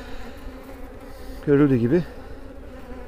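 Honey bees shaken off hive frames hum in a low, steady buzz close by, while someone speaks briefly over the swarm midway.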